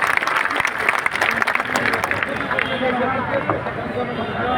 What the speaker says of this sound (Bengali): আপুর জন্য একটা জোরে করতালি হবে।